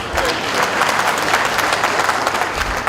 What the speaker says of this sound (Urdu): آپ جب چاہیں جتنے چاہیں تالیاں بجا سکتے ہیں